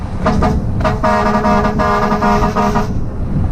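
A vehicle horn sounds in a rhythmic pattern of short and longer toots, loud and close, over idling engine noise.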